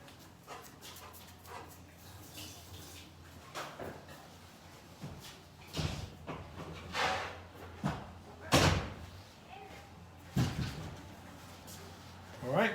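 Indoors, a door is handled to let a dog out: several thumps and knocks, a latch and a closing slam, with faint low talk and soft dog sounds amid a steady hum.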